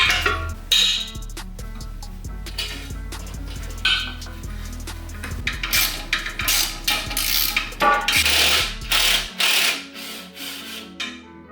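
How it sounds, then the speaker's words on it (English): Metallic clanks, clicks and ratcheting from a ratchet and breaker bar working loose the 10mm nuts on the back of a three-piece SSR Minerva wheel, close and loud, with irregular bursts of clinks and scraping throughout. "use a breaker bar on the back and break all the 10mm nuts loose"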